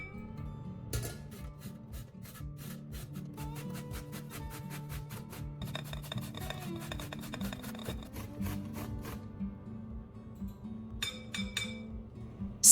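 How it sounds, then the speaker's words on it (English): Medium zucchini grated into a large bowl, giving a steady rhythmic rasp of quick scraping strokes up close, with occasional light clinks, and no one talking. "First, grate 1 medium zucchini into a large bowl."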